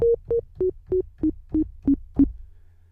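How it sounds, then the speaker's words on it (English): A run of eight short, pure sine-wave tones from a Logic Pro X sampler in an even rhythm, each pitch stepping slightly lower, clear and alone. "default is a sine wave, which sounds like this."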